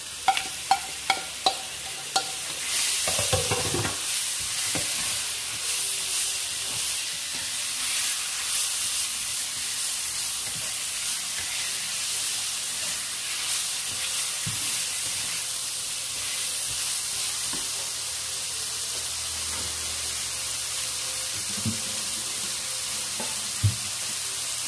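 Chicken breast sizzles and fries in a pan while special bihon is cooked, with a steady loud hiss and spitting crackle that opens with a few sharp clanks and continues unbroken, with no talking.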